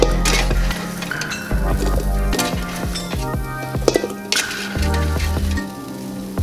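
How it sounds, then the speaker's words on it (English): Air-fried buffalo cauliflower is scooped into a bowl with clattering and scraping of utensils against cookware, a series of sharp clinks and knocks alongside a faint sizzle, close and brisk. "So we're gonna scoop these out and put it into the bowl really quickly."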